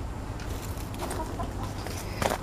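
Chickens cluck softly in the background over a low steady hum, with a few scattered short calls and no talking.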